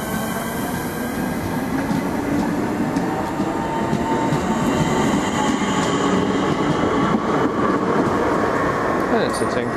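Trains in a railway simulation game set in southeast London, a continuous rolling rumble of wheels on track with faint squeals, while a person talks over it.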